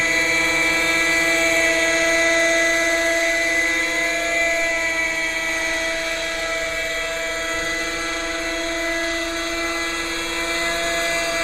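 A fuel-powered radio-controlled Raptor helicopter flies, giving a steady, loud, high-pitched rotor and engine whine that holds nearly constant throughout, with no voices.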